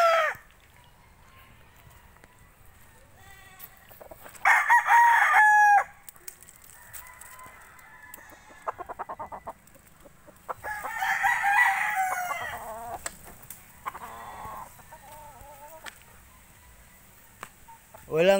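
A rooster crows loudly and nearby in two long calls, with clucking and other fowl sounds in between and a person talking briefly in the background.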